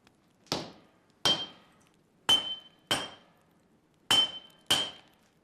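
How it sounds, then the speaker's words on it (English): Steel for a katana struck at the forge: six loud, ringing hammer blows, evenly spaced about a second apart, each with a bright metallic ping that decays quickly. "Heat from the forge and constant hammering flatten the pieces into the building blocks of the new weapon under Ghassan's watchful and highly trained"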